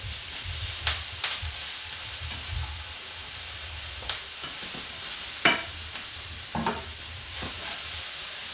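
Food browns in hot pan drippings, a steady sizzle and fry running throughout with occasional stirring scrapes and clicks close by, no voices.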